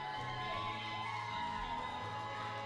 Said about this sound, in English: The crowd's standing and cheering.